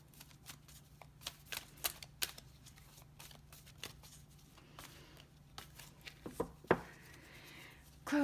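Fortune reading cards being shuffled and pulled, a quiet series of crisp riffling snaps and flicks at irregular intervals, close up with no talking.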